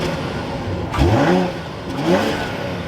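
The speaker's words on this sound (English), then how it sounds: "let's fire this up with that crystal button down below. Take a listen to the 540i" A BMW 540i engine fires up and blips its throttle twice, each rev rising sharply then falling back to a smooth idle, heard close with no talk.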